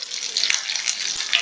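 Cumin seeds, green chilies and curry leaves dropped into hot oil, spluttering with a bright crackling sizzle that pops in quick irregular bursts, close and fairly loud.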